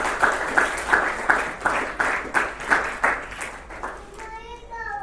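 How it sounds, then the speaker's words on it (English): At a doctors' cricket league closing ceremony in Dubai, an audience claps in a rhythmic, unison beat of about two claps per second, then the clapping stops and a voice speaks. "So can you have a big round of applause for all those?"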